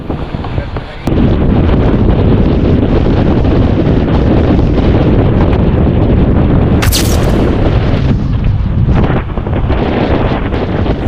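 Strong habagat monsoon wind buffeting a microphone outdoors, a loud continuous roar after a brief quieter start, with gust bursts and a short crackling spike midway.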